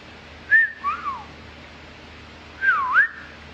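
A person whistles two short bursts of gliding notes, each a quick rise and fall, separated by a quiet pause, close and clear over faint background hum.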